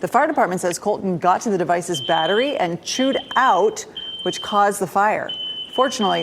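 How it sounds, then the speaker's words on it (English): Smoke detector alarm in a home after a fire, sounding in loud repeated high-pitched beeps under a news reporter's continuous talk. "You can hear the smoke detector going off."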